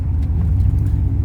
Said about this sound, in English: Excuse all the noise and rattling. There's no door panels on the interior.